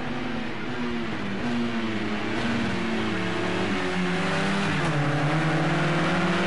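Touring cars race downhill toward the final chicane at Bathurst in a racing video game, several engines droning and revving together, pitches rising and shifting through gears in a steady loud roar.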